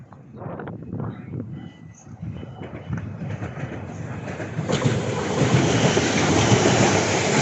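A train departs Clapham Junction bound for London Waterloo, its rumble and clatter building steadily from a low start into a loud, sustained roar with no voices over it.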